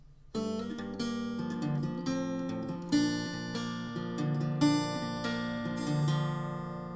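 An acoustic guitar plays the first part of the intro to a song, clear picked notes and ringing chords over an open G and a D, close and steady with no talking.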